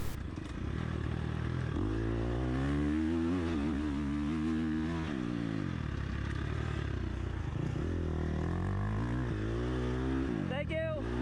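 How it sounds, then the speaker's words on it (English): A KTM 350 dirt bike races wide open through a moto-style section of a sprint enduro, its close engine roar surging and dipping with the revs amid wind and clatter. "Onto this moto-ish section, wide open, KTM 350,"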